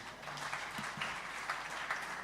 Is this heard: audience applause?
yes